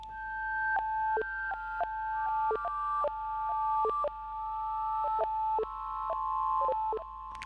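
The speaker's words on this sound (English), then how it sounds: "Then you have the U-turn, which basically plays the sound from the beginning and then reverses it" A Yamaha VSS-200 vintage sampler plays a short sampled tone forward and then reversed, repeating as a steady series of clicky, pitched bleeps at a regular rhythm with nobody talking.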